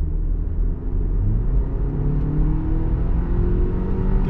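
A 2021 Audi Q5 SUV accelerating on the road, heard from inside as a steady low engine rumble and tire roar with a rising engine tone, continuous and fairly loud, no talk.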